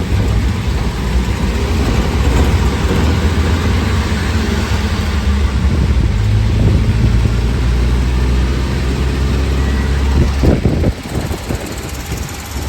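A 1943 Volkswagen Kubelwagen Type 82, a WWII German military vehicle, drives along with a steady, low engine drone that holds loud and close, then eases off near the end.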